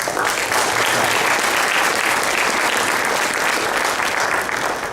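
Dense, sustained applause from an audience at a hall of fame induction ceremony, honoring the athletic booster club; loud and steady throughout with no break.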